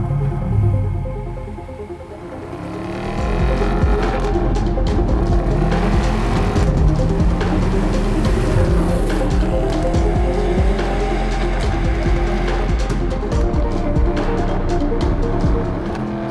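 A Mercedes SLS AMG Roadster with its 6.2-litre V8 drives on the road, the engine droning loud and steady with rising and falling revs and some tyre roar throughout, no talking.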